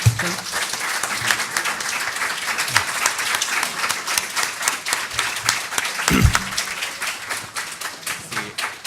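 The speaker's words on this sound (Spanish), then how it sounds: "Primero un aplauso, Edmundo, por favor." Audience applause at a university open lecture on science fiction, a moderately close, steady wash of many hands clapping with individual sharp claps standing out, plus a brief low voice or thump partway through.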